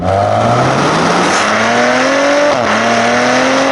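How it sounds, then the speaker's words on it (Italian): A 2017 Maserati Ghibli engine revs hard and loud, pitch climbing steadily through a gear change, close and continuous with no voices. "è un motore che ha un bel carattere e soprattutto suona da paura"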